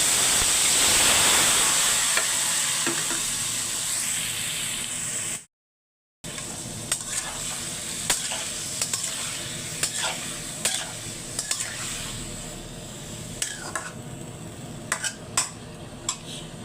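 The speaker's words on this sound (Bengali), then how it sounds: "করলা ভাজি করবো বেশি করে পেঁয়াজ দিয়ে হলুদ আর লবণ দিয়ে" Bitter gourd frying in a pan with plenty of onion, turmeric and salt, steady sizzle and hiss with scattered clinks and scrapes of a stirring spoon, close and continuous, briefly cut out near the middle, no talk.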